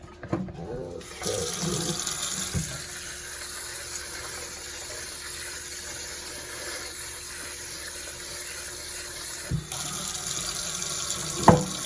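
Water runs from a kitchen tap to rinse browned meat, a steady close splashing rush lasting throughout, with brief clatter near the start and end.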